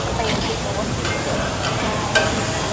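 Paella in a large pan at a Pattaya food buffet is being stir-fried, giving a loud continuous sizzle with scraping stirs and a few sharp clinks, while people talk faintly in the background.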